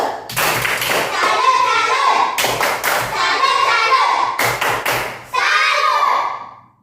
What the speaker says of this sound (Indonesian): tepuk salut dulu untuk kelompok 2